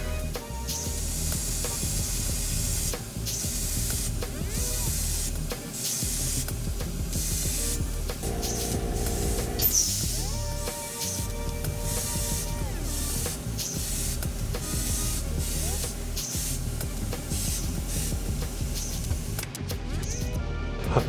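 Aerosol spray paint hisses in a long, steady, continuous stream onto a handmade balsa wood wake bait, close and constant with small fluctuations, for about twenty seconds.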